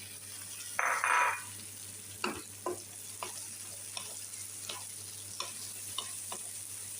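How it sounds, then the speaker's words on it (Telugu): Tomatoes frying in a pan give a steady low sizzle, broken by a brief bright burst early on and then by several sharp scraping stirs of a spoon against the pan, with no talking. "వేగిపోయి టమాటా వేసేస్తాం."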